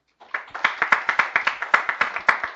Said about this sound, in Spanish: Un aplauso fuerte para ellos nuevamente.